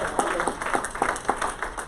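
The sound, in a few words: audience applause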